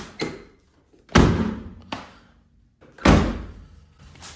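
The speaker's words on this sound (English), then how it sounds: "And for reference, here's the back door." A classic car's back door slams shut several times in a row, each one a heavy, near thud with a short rattle that fades. The closes are evenly spaced and there is no talk.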